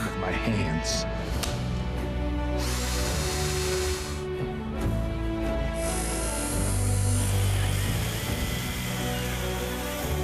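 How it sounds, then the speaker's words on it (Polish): Cordless drill-driver whirring in a short burst, a mid-loud motor whine mixed with music and a voice talking over it throughout. "Akumulatorowa wiertarko-wkrętarka 149 zł."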